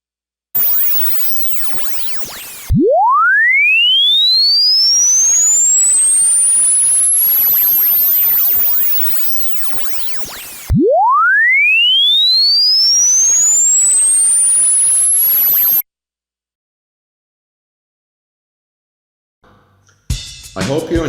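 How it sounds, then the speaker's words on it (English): A phone function generator plays two rising sine sweeps that climb into a high whistle, laid over a crackly bed of digital artifacts and static, followed by a few seconds of silence and a brief burst of noise. "Ignore them and you can still hear the sweep above 4K."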